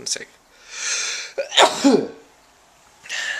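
A single sharp sneeze bursts out near the middle, loud and close, after a brief throat sound. A voice speaks briefly before it and again after it.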